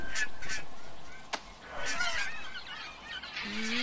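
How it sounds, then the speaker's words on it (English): A mother bird in the video game Broken Age gives goose-like honks, several short calls rising over a soft game ambience with a brief sharp click midway. "Might be a mama bird around."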